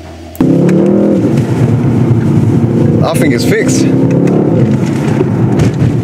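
A rebuilt Mercedes GT63 AMG engine bursts into life and keeps a loud, steady running drone close up, with a brief voice speaking over it.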